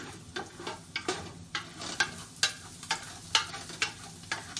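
Red onions fry in a pan during a plant-based Mexican cooking class, a soft sizzle punctuated by regular stirring scrapes and taps roughly twice a second, close and without talk.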